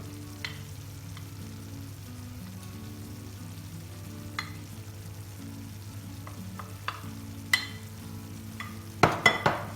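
A spoon stirs potato kumpir filling with kashar cheese in a tray, soft scraping and faint sizzle-like rustle under a low steady hum, with a few sharper clinks and knocks near the end.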